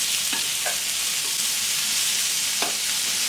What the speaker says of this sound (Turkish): Yağımızı ısındıktan sonra soğanı ekleyelim. Biberi ekleyelim. Şöyle 1-2 dakika kadar kavuracağız.